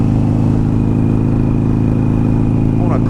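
A Harley-Davidson Iron 883 motorcycle cruising on a cold ride, its engine producing a loud, steady low rumble with constant wind noise throughout and no noticeable change in pace.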